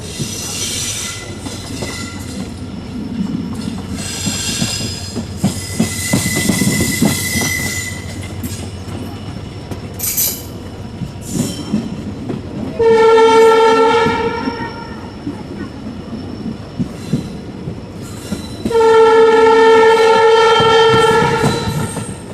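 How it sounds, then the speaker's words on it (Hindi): A passenger train pulls into Nagaur railway station with a steady rumble and rattle of wagons, then two long, loud horn blasts sound close by, each lasting a few seconds. "हमारी ट्रेन आ चुकी है इसके 8वें हॉल्ट नागौर रेलवे स्टेशन पर"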